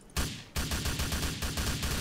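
Automatic rifle fire in GTA IV, a rapid burst of loud, evenly spaced shots following a single opening shot, with no talk.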